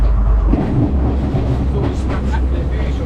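A passenger train in Sri Lanka rolling along, with a rumbling low drone and rattling clatter around open doors, heard from on board, close and steady throughout.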